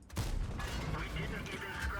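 A tank gun fires once in the World of Tanks video game, a sharp blast that decays into a rumbling tail, with game mechanism sounds and a voice talking underneath.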